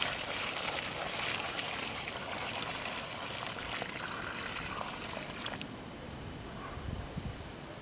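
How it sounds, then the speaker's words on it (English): Several gallons of water are poured onto the soil around a newly planted peony, making a steady close trickling and splashing wash that holds at an even level and then eases slightly toward the end, with no talking. "Start by adding a few gallons of water."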